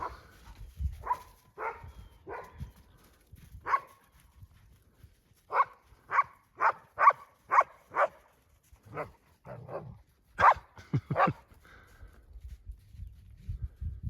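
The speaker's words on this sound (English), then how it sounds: "He's an Armenian Gamper." An Armenian Gampr guardian dog, still a puppy, barks in a winter storm near sheep and goats. A dozen or so loud, deep barks come close by in an uneven series, with low rumbling noise between them.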